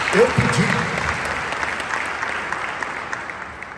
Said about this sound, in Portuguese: Dê um aplauso a Jesus aí por essa oportunidade.